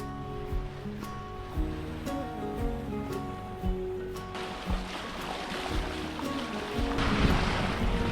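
A sailboat motoring under engine very close to St Lucia island on flat, windless seas: a steady low engine drone with rhythmic thumps, water wash and wind rising toward the end, no voices.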